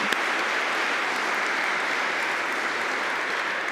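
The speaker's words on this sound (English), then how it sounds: "I'll get you just to give him another round of applause." Steady applause from an audience in Christ Church Cathedral, Newcastle, dense clapping that fills the whole stretch at an even, fairly loud level.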